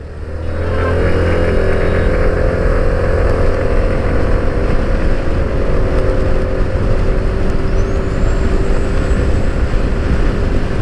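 A TVS Jupiter 125 scooter with a 124.8cc single-cylinder air-cooled four-stroke engine pulls away from a standstill, its hum rising into a loud, steady drone with wind rush and no talk.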